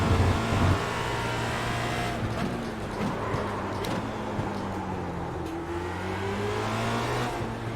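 A Formula Renault 2.0 open-wheel race car in the iRacing sim revs hard through the gears, its engine note climbing and dropping in clean sweeps, close and steady with no talking.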